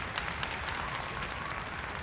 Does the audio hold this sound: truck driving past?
no